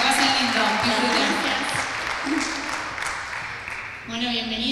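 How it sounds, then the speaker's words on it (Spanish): Audience applause at the opening of a youth talks event, a dense steady wash of clapping filling the room for several seconds, fading slightly before swelling again near the end. "Pueden volver a aplaudir para darle la bienvenida"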